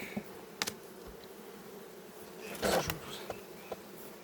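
Honeybees and drones buzz steadily at close range at a hive, with a louder burst partway through as one passes near; no voices.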